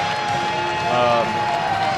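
A crowd at a girls' high school basketball game between Shelby Valley and Walton-Verona murmurs and cheers with bands playing, a steady busy din under a commentator's talking voice.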